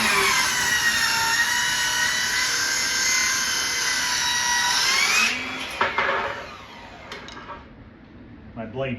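A hand saw cuts a small piece of wood set in a miter box, making a steady, loud, rasping stroke sound for about five seconds. It then stops, and a few light knocks and handling noises follow.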